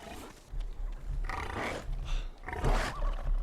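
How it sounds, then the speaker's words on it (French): Wolves in the survival game Savage Lands make rough snorting, grunting calls that sound like pigs, several loud bursts close together with no talk over them. "Mais vous faites des bruits de cochon les loups maintenant"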